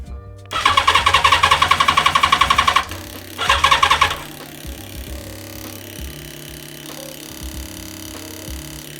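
A Yamaha FZR 1000 motorcycle being cranked without starting: a loud, rapid whirring starter burst of about two seconds, then a shorter second attempt, neither catching, followed by a low steady hum.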